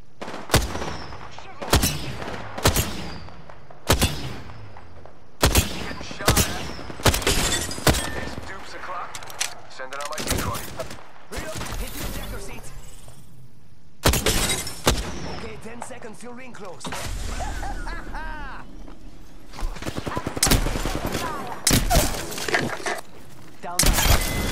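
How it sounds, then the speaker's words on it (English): Apex Legends gunfight: sharp, loud gunshots crack out repeatedly in irregular bursts, some rapid and clustered, with brief gaps and a steady game background between volleys. "Taking fire."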